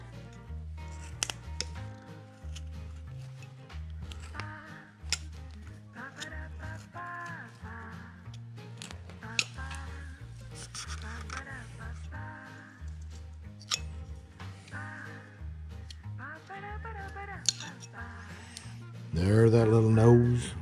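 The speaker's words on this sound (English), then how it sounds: "I'll cut this here, so I need to cut back against my stop cut right in here" A knife carving a small wooden Civil War soldier figure, making faint scraping and clicking cuts scattered over a long stretch while a person talks almost throughout, with a louder burst near the end.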